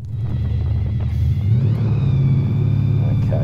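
A muscle car and a Hyundai EV roll forward side by side before a drag race, a steady low engine rumble with a rising drone, loud and continuous throughout.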